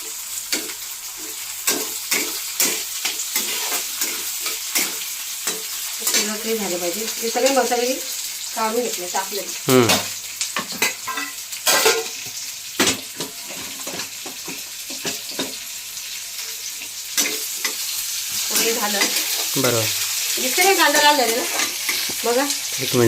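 Tomato goes into a hot pan and fries, with a loud sizzle broken by repeated scraping stirs and clatter. A voice is heard briefly at a few points.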